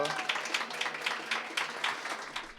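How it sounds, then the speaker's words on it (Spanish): An audience claps in a steady patter of applause for the opening introduction at an after-office panel discussion on Ecuador's economic model. "Ahora, viene el aplauso introductorio de nuevo."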